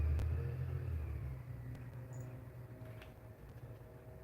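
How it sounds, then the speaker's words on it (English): A garbage truck rumbles with a low engine drone, loudest at first and gradually fading as it moves off, heard at a moderate distance with no voices. "It sounds like a garbage truck."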